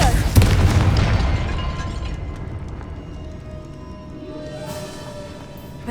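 A Confringo blasting spell detonates in Hogwarts Legacy, a loud booming burst at the start that rolls into a long, fading rumble with lingering game ambience.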